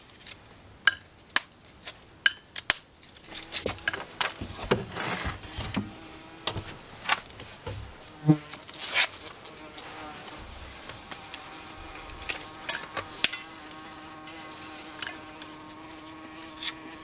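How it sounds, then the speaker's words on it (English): An annoyed wasp trapped indoors buzzes in bursts as it bats about trying to escape, close and fairly loud, with sharp taps and clicks from it striking surfaces over a steady low background. "We have a wasp that's very annoyed trying to get out"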